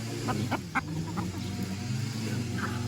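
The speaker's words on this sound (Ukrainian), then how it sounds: "І півник прийшов" Rooster clucking in a backyard chicken coop at a country dacha while hens feed: several short, sharp clucks close by in the first second, then softer scattered calls over a low background hum.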